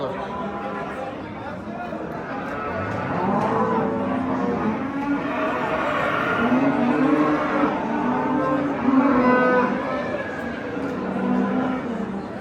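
Cattle low at an open livestock bazaar in rural Uzbekistan, drawn-out moos blending with continuous close-up chatter from buyers and sellers.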